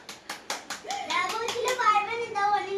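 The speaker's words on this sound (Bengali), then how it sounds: "তো জন্য সবাইকে একটা হাততালি" A family claps hands after a chocolate game, a few separate claps at first before children's voices and chatter take over.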